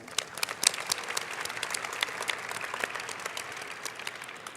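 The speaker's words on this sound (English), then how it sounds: "So let's give them a huge round of applause too." An audience at a closing ceremony claps for sponsors, moderately distant applause with scattered crisp individual claps over a steady crowd patter.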